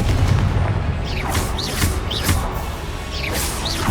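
Spell explosions burst repeatedly in a Hogwarts Legacy duel, loud booming blasts with whooshing magical swishes cutting through a dense, continuous battle din.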